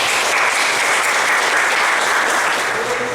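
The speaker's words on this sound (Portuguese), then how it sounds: "Palmas para o Senhor Jesus." Dense, loud applause from a church gathering, continuous clapping filling the space evenly from start to finish with no talk on top.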